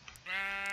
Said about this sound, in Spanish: La oveja se mete dentro.